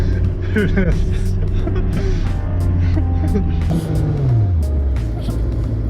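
A manual-transmission car engine revs up to about 4,000 RPM and then shifts into third. Its steady, close drone sweeps downward in pitch partway through as the revs fall.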